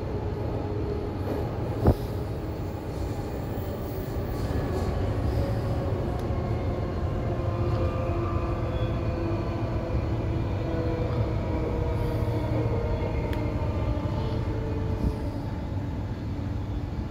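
A Redcliffe Peninsula line train runs express between Bowen Hills and Northgate, its steady rumble and rolling rail noise constant and close throughout.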